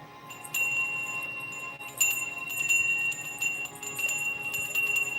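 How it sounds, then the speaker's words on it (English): A bell rings several times in a quiet, dimly lit cigar lounge, each clear metallic strike ringing out and overlapping the next at an irregular pace, with no talking. "So we ring the bell."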